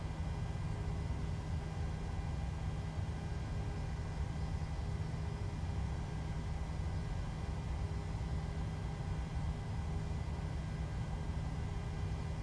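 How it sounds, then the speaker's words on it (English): A PMDG 737-700 jet engine spools up during ground start in MSFS 2020, a steady low, deep drone that holds evenly throughout with no talking. "that's quite a satisfying deep noise that comes out of a jet engine when it's warming up"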